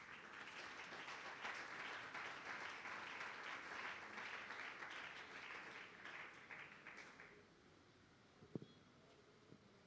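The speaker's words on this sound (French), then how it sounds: "Acclamons pour le Seigneur." A church congregation applauds at a worship service, steady hands clapping for about seven seconds before fading out, followed by a faint thump and near silence.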